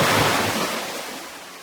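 Stormy rushing water as a sound effect, a loud broadband roar of churning current and surge that slowly eases off, with no voices over it.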